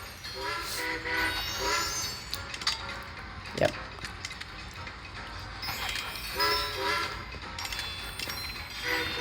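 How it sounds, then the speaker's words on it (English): In the rail-switching game Train Conductor World on a Norway map, train horns toot repeatedly over the rumble of passing trains. Short tonal blasts recur every second or two, and one brief spoken word comes in midway. "We got trains coming, so let's get out of there as quick as possible."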